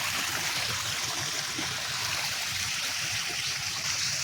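Constant rushing of water from a small stream spilling over rocks at a mini waterfall, a dense, even flow with no pauses.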